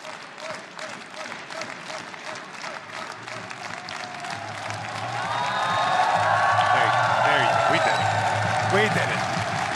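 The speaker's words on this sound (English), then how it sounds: "The crowd in Tokyo is bringing the energy, and that is all that matters." A large esports arena crowd at Valorant Masters Tokyo breaks into loud cheering and applause that swells midway and holds steady, with a caster's voice talking over the noise.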